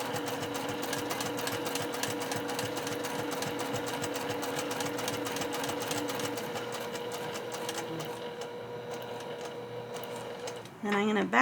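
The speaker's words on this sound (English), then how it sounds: "we're going to have to back stitch, do all that fun stuff here to really secure it" A sewing machine runs in a steady, fast mechanical whir while back stitching a fabric craft apron, loud and close for about ten seconds before it stops abruptly near the end.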